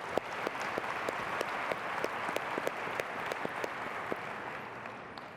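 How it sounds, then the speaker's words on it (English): Thousands of talent acquisition professionals at a conference give a sustained round of applause, a dense, even crowd clatter with sharp individual claps popping out near the front throughout. "Give yourselves a round of applause."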